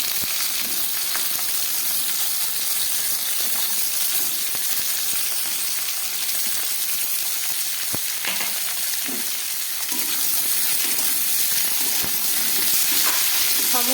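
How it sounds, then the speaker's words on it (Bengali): Potatoes and eggs frying in a pan with vegetables, including cauliflower, give a steady, close sizzle with a soft crackle throughout, heard alone with no talking. "সমস্ত সবজিগুলোকে আমি খুব ভালো করে একটু ভেজে নেব।"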